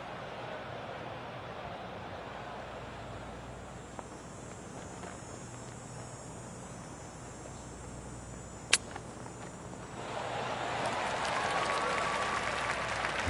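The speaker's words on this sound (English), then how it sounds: "enjoy that rapturous applause from the huge gallery" Applause from a large gallery of spectators around a green in The Golf Club 2019 golf video game, a steady broad patter that swells louder toward the end, with one sharp click partway through.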